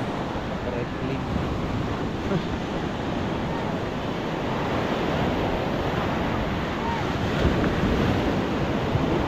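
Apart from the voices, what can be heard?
sea waves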